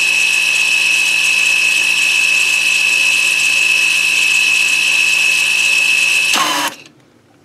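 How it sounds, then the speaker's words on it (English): Electric parking brake motor on a brake caliper driven to retract the piston, a loud steady high whine running nonstop close up, then cutting off abruptly near the end. "I just keep this motor going until this thing starts to rotate"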